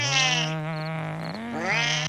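A cartoon cat from Family Guy yowls loudly and close up during a fight, one long, wavering, drawn-out caterwaul lasting about two seconds before it cuts off sharply.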